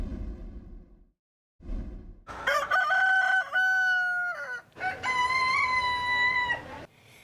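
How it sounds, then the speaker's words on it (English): Roosters crowing in a crowing competition at the annual Harrow Fair in Windsor, two long, loud, drawn-out cock-a-doodle-doo calls close by, following a brief low rumble at the start. "The competition, rooster crowing."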